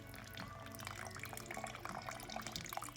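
Brewed herbal tea, made with a pour-over and plunge method, is poured into a large cup, making a soft, steady trickle of liquid that runs faintly and continuously for a few seconds.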